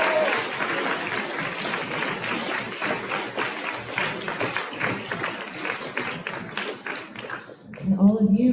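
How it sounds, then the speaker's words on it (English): Audience clapping after senior student speeches at a school gathering, a dense sustained round of applause that fades out near the end as a voice begins speaking. "Can we give them another round of applause?"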